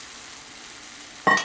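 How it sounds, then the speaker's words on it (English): Big chunks of tomato drop into a hot frying pan, a steady low hiss suddenly rising into a loud, close sizzle near the end, with no voices. "And now I'm gonna add the tomatoes, big chunks of tomatoes."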